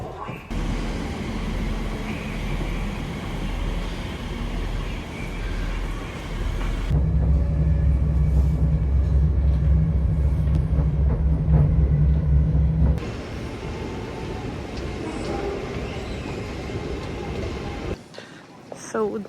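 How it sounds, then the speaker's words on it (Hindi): Train at Reading railway station, with a loud rumbling low drone and steady rolling noise that swells mid-way and then eases to lighter platform ambience, heard up close. "So this is Reading and that was the Reading train station."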